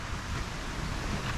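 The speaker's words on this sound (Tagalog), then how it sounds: "Ang lakas kasi ng alon ng dagat" Wind buffets the microphone over a broad, steady roar of sea surf, loud and unbroken for the whole moment.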